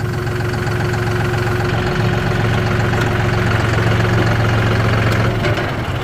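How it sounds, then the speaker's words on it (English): A loud tractor engine idles steadily close by during tree work, a low rumbling hum with a rhythmic knock running without a break. "Shut this tractor off so y'all can hear me."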